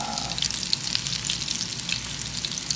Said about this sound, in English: You can even fry up the entire half of an avocado at one time.